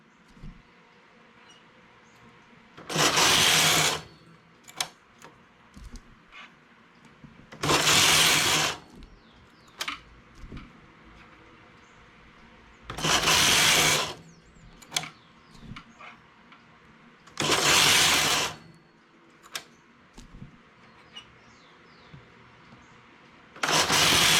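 A domestic knitting machine carriage sweeps across rows in five loud, sustained swishing passes, each lasting about a second or two and separated by quiet gaps with small clicks of handling.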